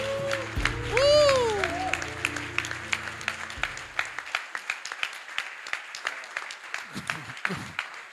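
Audience applause at a blind latte art competition, starting with a burst of clapping over background music and tones, then thinning into scattered claps.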